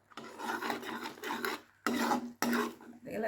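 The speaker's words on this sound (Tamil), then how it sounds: "நல்லா பாவாக வர்ற வரைக்கும் கிண்டி விடுங்க" A spoon scraping and stirring jaggery syrup with crushed cardamom in a pan for white sesame balls, giving close, gritty rasping strokes in bursts broken by two brief pauses.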